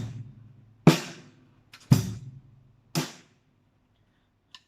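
Three evenly spaced drum hits, each a low kick blended with a sharp snare-like crack, played slowly at a steady quarter-note pulse with short decays.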